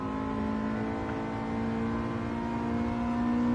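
Steady car engine drone from a racing car in Gran Turismo 7 multiplayer, a held tone with a constant loud hum and no speech, like sustained revving at speed.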